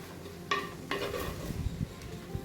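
Ginger garlic paste is stirred in a cooking pan with a spoon, giving a few scraping knocks against the metal over a soft, continuous sizzle; close and fairly quiet, with no talking.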